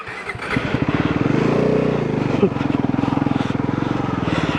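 A motorcycle climbs off-road uphill on a trail to a hilltop, its engine close and loud with a rapid, pulsing thump that strains and revs steadily throughout.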